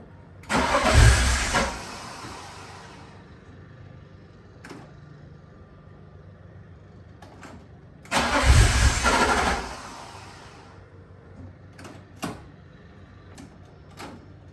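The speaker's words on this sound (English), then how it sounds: "So let's get to the morning where I finally get a new battery and we get the car running." A BMW E36 engine on a fresh battery cranks and catches twice, each start a loud surge of revving that settles into idle, with a few sharp clicks and knocks in the quiet gaps between.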